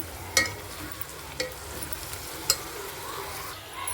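Raw prawns being stirred into a hot sizzling pan for a Godavari-style raw mango curry: a steady low sizzle with a few sharp spoon clinks against the pan, and no talking.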